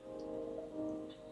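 Soft, steady rain in the video game Coffee Talk, a faint pattering bed under a low tonal music drone, with no speech.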